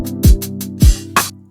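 A synth chord layered with the same chord five semitones lower, struck in a few short, punchy hits with a deep thump under each, close and loud.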